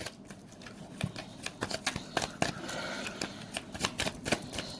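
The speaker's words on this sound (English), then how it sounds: "I've changed my shuffling side a bit, so that could make some noise." Tarot cards riffled and shuffled by hand, a string of crisp papery snaps and flutters in quick uneven bursts, close and moderately quiet, with faint speech-like murmur now and then.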